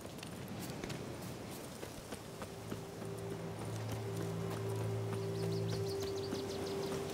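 Horse hooves clip-clopping in the video game The Witcher 3, a steady walking rhythm of hoof strikes, fairly faint, with a sustained game tone humming underneath.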